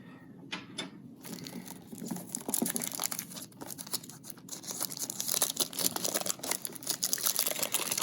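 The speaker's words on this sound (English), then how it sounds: "Let me just cut the plastic wrap off." Plastic wrap being cut and peeled off a disc case, a close, steady stream of crinkling and tearing rustles that runs without pause and grows slightly louder toward the end.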